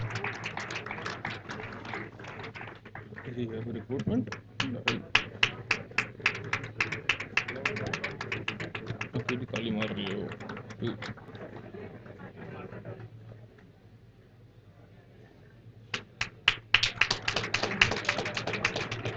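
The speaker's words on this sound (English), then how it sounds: "Please give a huge round of applause to them." Scattered clapping from an audience at a job fair felicitation ceremony, in uneven bursts over a steady hum, fading out midway and then returning briefly near the end.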